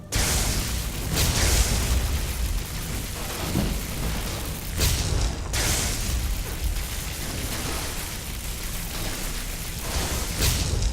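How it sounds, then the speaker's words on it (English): Repeated booming explosions in the video game Skyrim, heavy rumbling bursts with whooshing tails that fill the scene loudly and continuously, with sharper blasts recurring every few seconds. "Oh, must watch out for those explosions."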